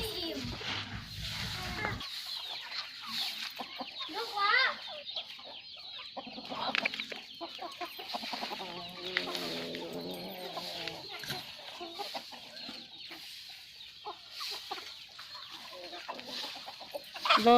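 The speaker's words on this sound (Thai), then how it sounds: "เริ่มทะเลาะกับไก่อีกแล้วนะคะพี่น้องครีมของเรา" Fighting cocks cluck and squawk amid a busy, noisy, dusty outdoor scene, with a child tussling with them, scattered voices and scuffling throughout.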